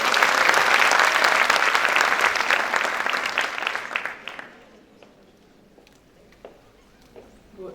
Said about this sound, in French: Mesdames et messieurs, sous vos applaudissements, Nadia Bilberten.